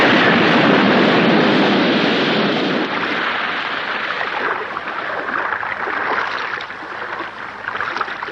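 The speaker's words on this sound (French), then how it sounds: "Veuillez régler l'explosion à 10 secondes." A loud, broad blast of noise that rolls on and slowly fades into a rough, crackling rumble over several seconds.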